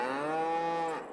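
A single dairy cow in the Farming Simulator 22 game moos once, loud and close, a drawn-out bellow that slides slightly in pitch and then fades off.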